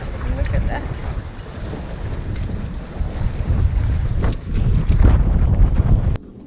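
Strong gusting wind buffets a Hallberg-Rassy 54 sailboat in harbour in Bermuda, heavy low rumble and microphone wind roar swelling and easing, with water sounds underneath and no clear speech.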